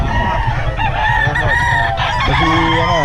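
A rooster crows loudly and close by with drawn-out, wavering calls, joined by other fowl clucking and crowing at a farm or cockfighting-bird sale.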